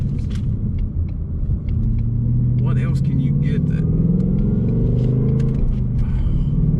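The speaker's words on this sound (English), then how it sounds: "Just pedaling it around, rolling up through the gears, it's involving, and you can feel that torque." A 2019 Ford Mustang GT engine gives a deep, loud rumble that rises in pitch as the car accelerates up through the gears from inside the cabin, while someone talks over it.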